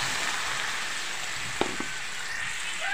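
Pakbet vegetables simmer and sizzle in a pan after coconut milk is added, a steady close crackle with a couple of soft clinks of a utensil, no voices.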